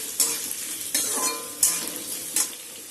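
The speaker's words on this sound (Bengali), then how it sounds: "আমি একটু লাল লাল করে ভেজে নেবো আলুটা" Potatoes sizzle steadily in hot oil in a pan while a utensil stirs them in four distinct scraping strokes, close and clear with no talk.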